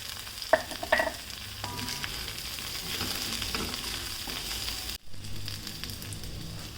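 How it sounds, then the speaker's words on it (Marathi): Varai rice with crushed peanuts sautéing in a pan, a continuous sizzle with a few clinks of a spatula early on and a short sudden break before the frying resumes. "तिला चांगलं परतून घ्यायचं"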